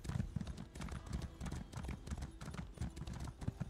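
Steady clip-clop of horse hooves as a mount is ridden around in Elder Scrolls Online, a continuous rhythmic trot of soft thuds heard alone at moderate volume.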